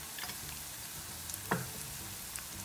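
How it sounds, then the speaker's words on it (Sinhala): Onions, rampe and curry leaves fry in hot oil for a Sri Lankan sambar tempering, giving a steady close sizzle with a few light stirring ticks and one brief scrape of the spoon. "ලුණු ටික ටිකක් තෙම්පරාදු වෙනකොට මේකට රම්පේ කරපිංච ටික එකතු කරලා"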